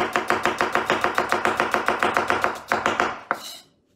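A knife slices an onion into fine julienne strips on a cutting board, a fast, steady run of close, crisp chops that slows and stops near the end.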